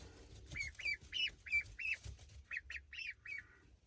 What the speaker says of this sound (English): We have silver appleyard ducks